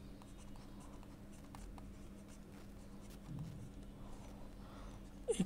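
A pen writes a math solution on paper, with soft close scratching strokes in a steady run and a few sharper taps at the end, under a faint background hum.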